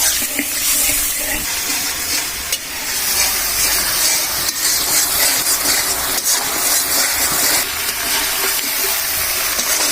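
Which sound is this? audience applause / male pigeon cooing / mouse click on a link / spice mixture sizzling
spice mixture sizzling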